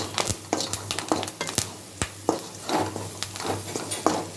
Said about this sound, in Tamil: கொஞ்சோண்டு வெறும் கருவேப்பிலையை போட்டு வதக்கி விட்டுக்கிட்டு